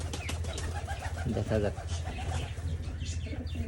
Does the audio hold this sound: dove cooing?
yes